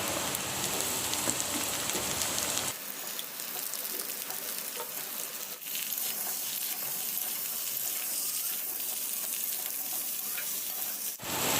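Pumpkin and Malabar spinach stems added to frying potato in a pan, a continuous oil sizzle that shifts in tone as the vegetables go in, with brief stirring scrapes.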